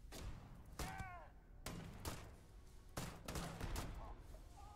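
Video game gunfire in a hardcore shooter run: a handful of heavy, booming shots spaced about a second apart, fairly faint overall, with reverberant tails and light background noise.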